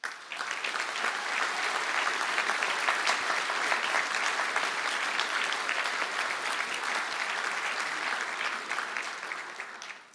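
A large audience at a university conferring ceremony gives sustained applause for engineering graduates, a dense even roar of clapping that holds steady for the whole stretch and tapers at the very end.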